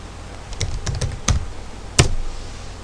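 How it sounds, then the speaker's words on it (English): A few scattered keystrokes on a computer keyboard as a name is typed, with light clicks and a sharper, louder key tap near the end, close up and alone. "Here, I'll type someone else's name in."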